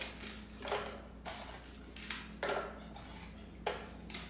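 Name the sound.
crunchy bread crumbs breaking up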